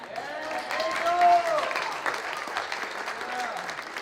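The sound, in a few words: audience applause at school pitch night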